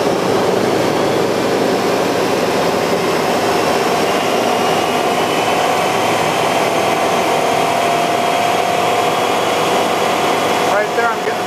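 A 1997 Chevy Silverado truck engine runs at a steady 2,500 rpm, a constant loud droning hum that holds evenly throughout.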